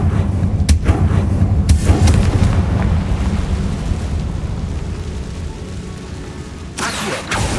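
A Confringo spell explodes in Hogwarts Legacy with heavy booming blasts and crackling debris, loud and close, followed by rumbling and another burst near the end.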